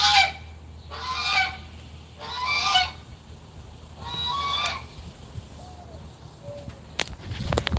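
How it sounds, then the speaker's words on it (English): A goose on a small farm honks in four loud, close bursts of nasal calls, separated by quieter pauses with faint bird sounds and a few sharp clicks near the end. "he's such a funny goose."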